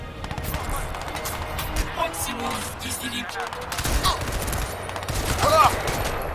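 Gunfire in the video game Crysis 2, with scattered shots and bursts running under steady talk from players throughout.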